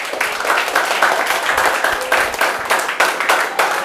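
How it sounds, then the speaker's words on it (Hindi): Students in a coaching classroom clap for classmates selected in CUET-ICAR 2025: a steady, moderately loud patter of many hands in repeated surging bursts, with no talking over it. "तालियां जोर से भाई"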